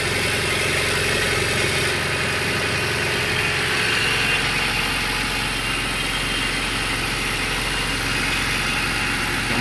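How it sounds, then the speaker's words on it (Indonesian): A 1990 Honda Civic car engine idles steadily and loudly, a constant rumble with no speech. "suara mesinnya juga enak"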